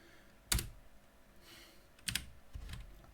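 Key presses on a computer keyboard, three short separated bursts of clicking, soft and close, in an otherwise quiet room.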